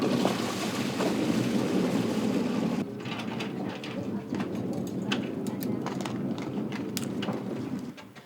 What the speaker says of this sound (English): take a trip across Langston Harbour mouth on the Hayling Ferry